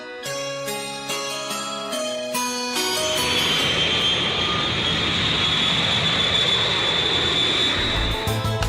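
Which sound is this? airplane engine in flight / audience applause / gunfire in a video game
airplane engine in flight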